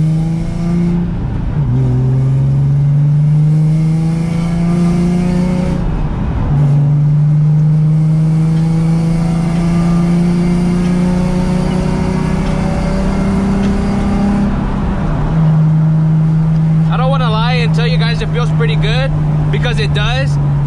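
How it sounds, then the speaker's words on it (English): A car rides on BC coilovers in casual driving, and its engine hum climbs and drops through gear changes, loud and close from inside the cabin. A person talks throughout. "I'm gonna do a little bit of driving, normal casual driving, to see if it feels like any different at all"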